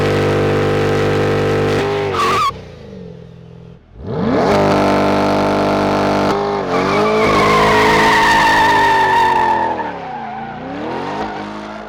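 A 2020 C8 Corvette doing donuts, tires squealing loudly in long sustained screeches over a revving engine, with a brief drop in sound before the squeal returns up close.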